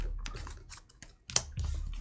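Playing cards are shuffled and handled for the Marvel Champions card game: a loose series of crisp flicks and clicks, close up, with one louder snap near the middle.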